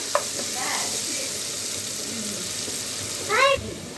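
Onions fry in a pan for an Andhra chicken curry with a steady, moderate sizzle, and a short clatter of stirring comes near the end.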